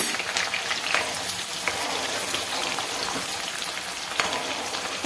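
Onions frying in a pan for mutton liver curry, a loud, dense and steady sizzle with occasional crackles, heard up close without any voices.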